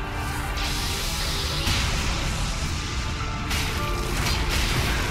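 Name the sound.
boss explosion in Dark Souls 3 video game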